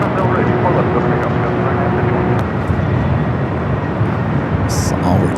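Airliner taking off from runway 24 left at Los Angeles International Airport, a steady loud jet roar holding throughout, with a brief bright sound near the end.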